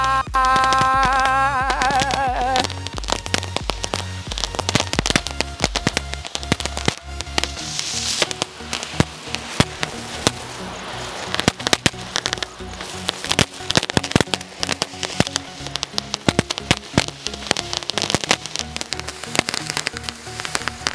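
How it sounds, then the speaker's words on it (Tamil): Gun cracker fireworks being tested in Sivakasi, a dense rapid barrage of sharp crackling bangs and pops going on for about twenty seconds, loud and close, with a brief whistling start. "இப்போ இந்த கன் கிராக்கர் வந்து எப்படி பர்ஃபார்ம் பண்ணுது அப்படின்றத நம்ம பார்க்க"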